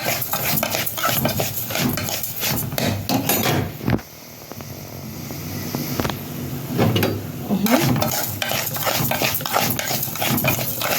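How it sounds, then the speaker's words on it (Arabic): Tomatoes tip into a pan of red-gold rice frying for a fish dish and get stirred through, with a dense scraping, clattering stir and steady sizzle, briefly easing before the utensil scrapes resume. "هنطلق بقى الطماطم كلها اللي احنا عندنا"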